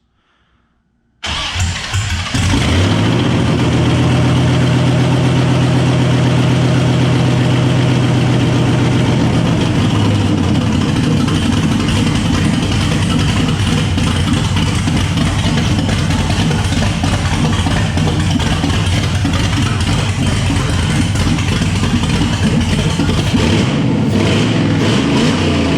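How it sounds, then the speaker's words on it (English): A Jeep Cherokee with a swapped LS V8 cranks and catches after a short silence, then settles into a loud, steady, rumbling idle that runs close up for over twenty seconds. "Gruesome Matt, he's gonna start this beast up for us."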